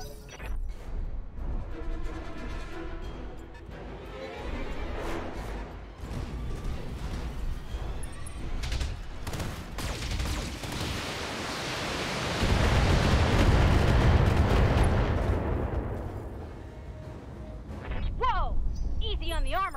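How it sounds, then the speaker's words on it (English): Heavy mech weapons fire a full salvo in the BattleTech game, a dense roar of impacts and blasts that swells and crashes in loud, continuous waves, with talk over the top. "Firing a full salvo."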